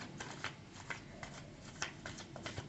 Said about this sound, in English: I will be shuffling the cards.